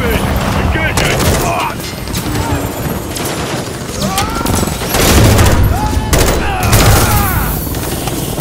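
Heavy automatic gunfire aimed at a helicopter in Call of Duty Modern Warfare 3, loud repeated bursts with booms and mechanical clatter, mixed with shouted radio voices.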